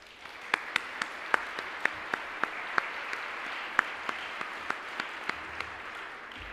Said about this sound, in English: Please help give us these women leaders another round of applause.